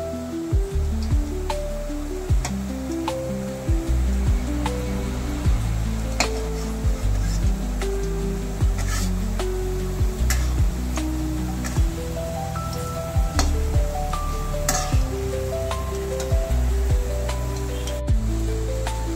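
Chhanar jam, a milk-based sweet, deep-fries in oil with a dense, continuous crackle and bubbling, steady and close, with occasional light clicks.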